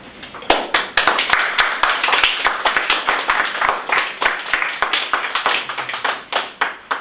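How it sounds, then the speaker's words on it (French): Theatre audience clapping for a comedy duo, individual sharp hand claps close and distinct, building into a rhythmic, fairly loud burst of applause that pulses unevenly and carries on for several seconds. "Vous pouvez applaudir le duettiste Jacques Pinot, Jacques Cobino et Alodino."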